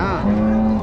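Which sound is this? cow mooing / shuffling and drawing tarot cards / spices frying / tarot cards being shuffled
cow mooing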